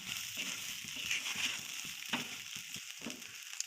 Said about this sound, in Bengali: দেখুন ভাজা হচ্ছে, হালকা হালকা লাল লাল হয়ে যাচ্ছে।